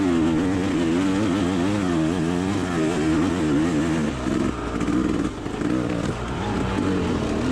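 An enduro dirt bike engine revs hard and continuously up a difficult, muddy climb on a hard enduro course, loud and close, its pitch wavering with throttle changes and bogging briefly toward the end.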